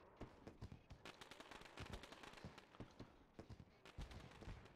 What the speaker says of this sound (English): So as the fireworks rain down,